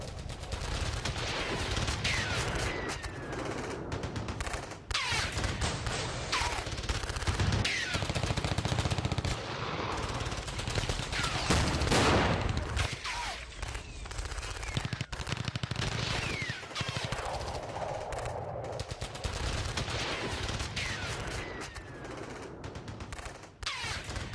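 Heavy gunfire in a battle between Russian and Ukrainian armies, with dense, continuous volleys of rapid shots and bursts that carry on loudly through the whole stretch, with no voices.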